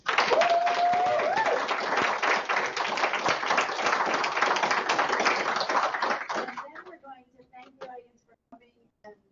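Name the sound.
audience applause for Shane after dissertation defense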